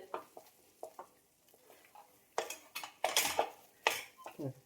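A spoon scrapes and clinks against a pan while carrot barfi milk mixture is stirred, intermittent close metallic strokes in an irregular rhythm that grow busier and louder in the second half.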